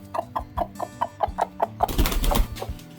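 A broody hen clucks in a steady run of short, evenly spaced clucks heard close, followed by a burst of louder, scratchy farmyard noise on a hot day.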